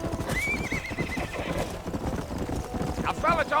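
Horse in the Red Dead Redemption video game whinnies loudly over a steady run of hoofbeats, with game dialogue and background sound mixed in.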